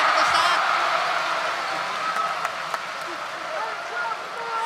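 Arena crowd at a professional basketball game roars in a sustained, dense wash of cheering and noise during free throws, with an excited commentator talking over it throughout.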